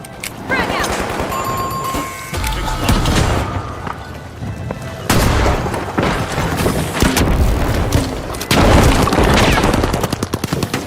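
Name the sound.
frag grenade explosion in a video game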